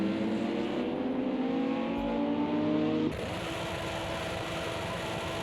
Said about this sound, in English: Someone was doing a burnout.